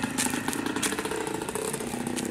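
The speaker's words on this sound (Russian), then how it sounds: "Мотоцикл." A motorcycle engine idles nearby with a steady, rattling putter that stays even throughout the short clip.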